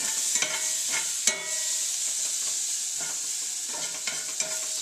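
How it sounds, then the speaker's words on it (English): Bell peppers sauté in a hot pan with a steady close sizzle, broken by several scraping stirs of a utensil, for cheesesteak filling. "Just going to give these a quick saute."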